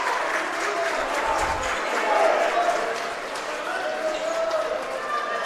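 Spartan crowd at a high school basketball game cheering and applauding in a steady, echoing gym roar, with a commentator talking over it.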